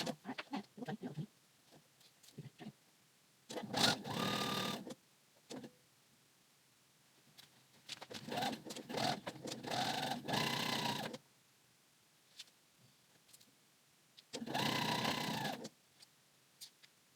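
Three separate bursts of a sewing machine stitching a pant waistband, each a few seconds long, with quieter handling noise between them and no talking.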